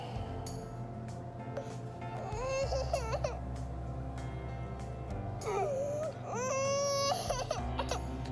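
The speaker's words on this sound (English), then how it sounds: "And it's just baby crying sounds." Recorded cries of an older baby play from an iPad speaker, rising in two wailing bursts with whimpers between them over a low room hum.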